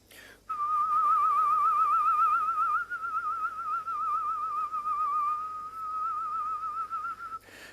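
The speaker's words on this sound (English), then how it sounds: "the whistling is just cleaning the etheric, the auric body" A person whistles during a frequency healing session, meant to cleanse the etheric or auric body. It is one close, sustained, wavering whistled tone lasting about seven seconds with brief dips, with no talking.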